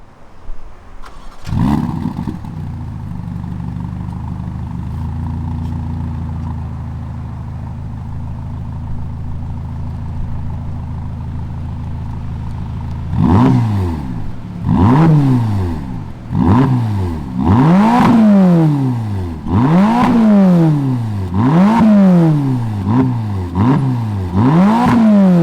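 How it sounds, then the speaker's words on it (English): A 2021 Ferrari Roma's twin-turbo V8 cranks and fires up, settles into a steady idle, then is blipped in a rapid series of sharp revs that rise and fall, loud and close. "let's fire up this twin turbo V8 and see if Maranello is right when they say that they got a great sound in this Roma."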